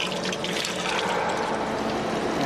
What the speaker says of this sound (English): we're getting a heavy flow of liquid